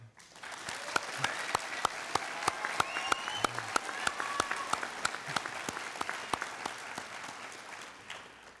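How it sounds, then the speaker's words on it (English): A graduation ceremony crowd applauds its seniors, the clapping fairly quiet and distant, with a few evenly spaced sharp claps standing out above a steady crowd patter. "let's have a round of applause for our seniors"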